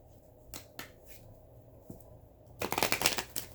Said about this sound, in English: we're going to shuffle one more time to see if anything else comes out for you